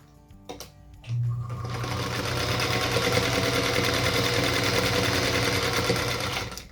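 A sewing machine chain pieces a stack of Union Star quilt blocks. A few light clicks come first, then a continuous, even motor whir and needle chatter starts and runs steadily to the end, close and moderately loud.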